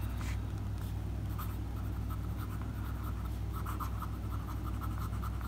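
A Parker Frontier gold trim fountain pen with a medium broad nib writing on paper, faint scratchy strokes in short bursts over a steady low background hum.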